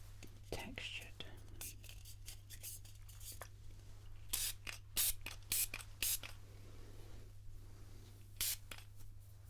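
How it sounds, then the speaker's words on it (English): Aerosol hairspray hisses in several short, close bursts during a bridal hair styling trial, the sprays loud over steady low hum with soft handling and rustle between them. "let's get the spray on now"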